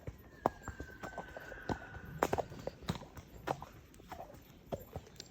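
Fjord horse hooves clip-clopping at a walk along a road, a steady rhythm of fairly faint, close hoof strikes.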